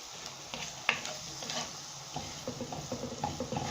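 Soft steady sizzling of a seasoned meat and onion filling frying in olive oil in a pan, with a sharp utensil clack near the start and light stirring scrapes throughout.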